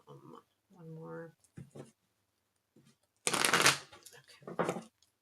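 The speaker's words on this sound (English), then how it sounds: "let's give this a couple shuffles" Tarot cards from the Somnia deck being shuffled, with short riffled bursts: a strong, close, crisp flutter followed by a second shorter one, after brief speech at the start.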